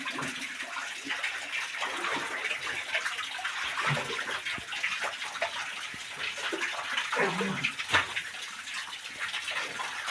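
Water rushes and splashes continuously inside a cave, a broad steady gush with echoing surges throughout, heard up close with no talking.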